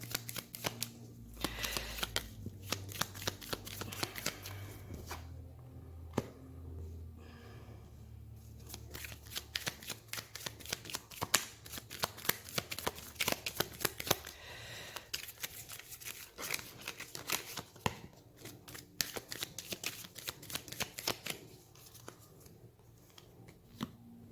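Tarot cards shuffled by hand for a reading, a steady run of soft riffling and flicking rustles with quick papery bursts, close and continuous, with no voices.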